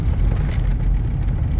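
A 1998 GMT400 pickup's engine roars with a loud, close, steady low rumble that stays heavy throughout, with no voices over it.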